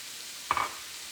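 Rosemary hits a pan over medium-low heat with a brief sizzling crackle that rises quickly over a steady background hiss and then settles.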